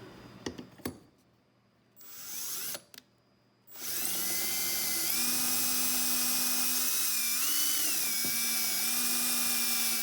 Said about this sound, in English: now we just drill it